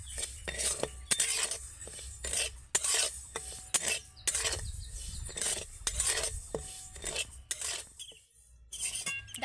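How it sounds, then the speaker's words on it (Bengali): Broken wheat dry roasted in an empty kadai, stirred with a metal spatula: repeated close scraping strokes in an irregular rhythm, grains rasping against the pan with faint sizzling between strokes, no talk. "জাস্ট এরকম নেড়ে চেড়ে হালকা করে আমি ভেজে নেব"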